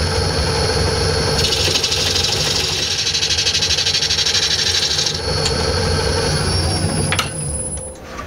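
Wood being cut on a lathe while turning a natural edge vase: a loud, continuous whirring scrape with gritty rasping that eases after a few seconds and then fades as the cut stops.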